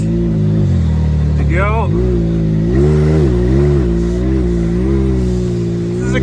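A car's engine revs loudly and steadily with rising and falling pitch while it tows another car out in reverse during a 4x4 versus front-wheel-drive tug of war, with people talking over it.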